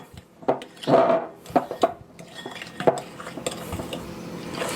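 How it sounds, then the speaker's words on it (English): A utensil stirring buttermilk into apple bread batter in a bowl, making close, irregular clinks, scrapes and soft wet squishes with no talking. "And I'm just going to begin to mix that in a little bit."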